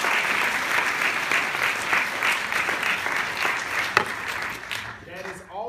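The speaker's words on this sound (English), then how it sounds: "So on that note, give yourselves a round of applause." A large audience of incoming engineering freshmen applauds loudly and steadily, a dense wash of clapping that thins out toward the end, with a few voices faintly audible in the crowd.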